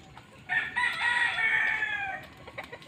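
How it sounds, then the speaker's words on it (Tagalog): A native labuyo hen gives a drawn-out, loud nasal cackle lasting about a second and a half, close by, just before laying an egg. "Ang labuyo mga kaibigan ay mangingitlog."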